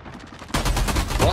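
Loud bursts of rapid gunfire in the video game Call of Duty with a dense, crackling texture, starting abruptly and continuing steadily, with faint background chatter at the start.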